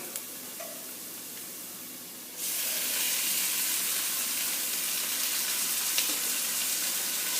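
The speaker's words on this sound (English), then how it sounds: "So we're going to go ahead and add in our ground meat." Ground meat is added to browned sauteed onions for a Texan stew, and the quiet sizzle jumps to a louder, steady broadband hiss of frying that continues close and uninterrupted.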